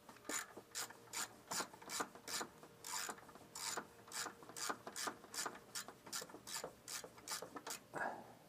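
Socket ratchet clicking in a steady rapid series of strokes while adjusting the power steering pump on a Dodge Ram 2500, close and distinct, with no talk.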